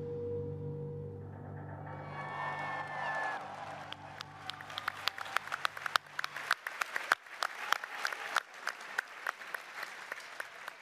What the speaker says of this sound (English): Everyone started clapping.